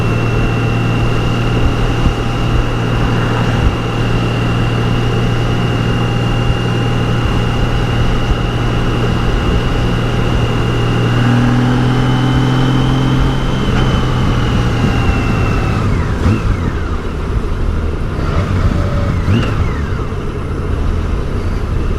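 A 2002 Honda GL1800 Goldwing motorcycle cruising on the road, with a steady loud engine drone and a low hum that holds throughout, plus wind rush and a brief shift in tone partway through.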